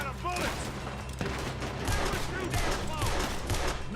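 Gunfire in the Red Dead Redemption 2 video game, a steady run of sharp shots in rhythmic bursts, fairly loud and near, with voices talking over it.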